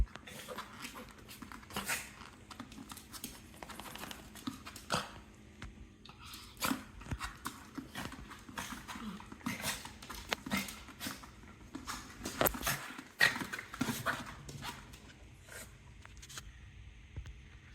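A dog crunches and chews on something close by, steady gnawing and crackling bites with scattered sharper snaps across the whole stretch; no clear barking stands out.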